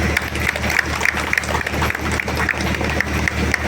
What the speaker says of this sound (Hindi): पहले ताली करें,